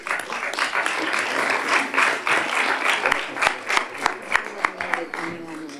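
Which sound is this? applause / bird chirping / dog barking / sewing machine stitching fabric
applause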